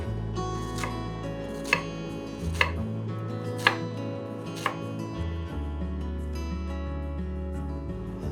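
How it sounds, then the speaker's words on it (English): Jalapeno being chopped with a knife on a cutting board, a handful of distinct, evenly spaced knocks over a steady background hum. "We're chopping some jalapeno here."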